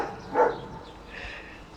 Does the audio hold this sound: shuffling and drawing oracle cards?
no